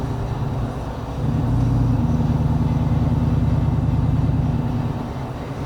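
A 2023 Ford F150 engine under light throttle switching out of 4-cylinder mode, a steady low cabin drone that swells and thickens about a second in and then holds evenly.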